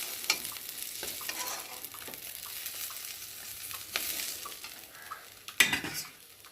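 Prawns fry in a hot pan with a steady close sizzle, broken by sharp clinks and scrapes of stirring and a louder clatter near the end, with no voices.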